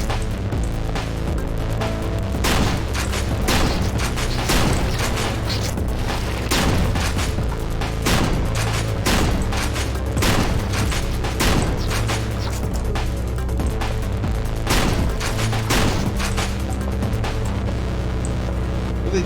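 Chunky rifle gunfire in a video game, with shots landing in steady, repeated sharp cracks and booms over a constant loud droning background that runs for the whole stretch.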